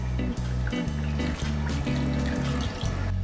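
Water is poured into a chicken marinade with salt and black pepper, giving a gurgling, glugging stream that pulses in uneven bursts, close and continuous with no talking.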